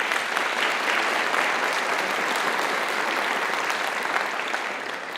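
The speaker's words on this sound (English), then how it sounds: "Round of applause for Judah." Steady audience applause at a school community awards event rings out for an honored student, full and even for several seconds before tapering slightly at the end.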